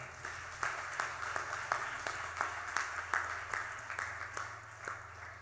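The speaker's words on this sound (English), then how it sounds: "let's do another big round of applause for them." A crowd claps steadily at moderate volume, a dense patter of many hands with a few louder individual claps standing out.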